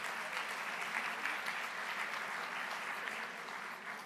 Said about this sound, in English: I think we can applaud them once more